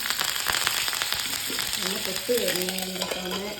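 Curry leaves dropped into hot oil in a home kitchen give a steady, close crackling sizzle with some stirring clatter, and faint background voices can be heard.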